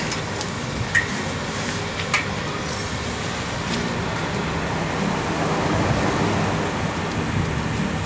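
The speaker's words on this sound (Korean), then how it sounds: "바다 파도 한번 찍을까?" Steady wash of ocean surf breaking on a sandy beach, a continuous broad roar that swells slightly toward the end, with a couple of faint clicks near the start and no voices.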